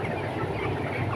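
A broiler chicken house ventilation fan runs with a steady, dense mechanical whir and low hum throughout, droning continuously at close range.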